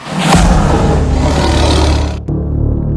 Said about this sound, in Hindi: गब्बर सिंह सबकी बात सुनता रहता है और फिर तेज गुस्से में दहाड़ता है।